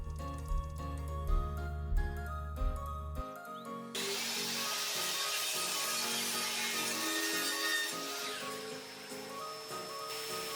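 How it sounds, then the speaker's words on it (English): A saw cuts the angled end of a shiplap board for a chevron accent wall, guided by a scrap-wood stop block. It makes a sustained, steady broadband whine that starts after a few seconds of music and runs to the end. "Then measure the length and cut the other angle end."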